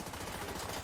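Rapid automatic gunfire from the video game The Division 2 crackles in a dense, continuous burst, loud and unbroken for under a second with no talk.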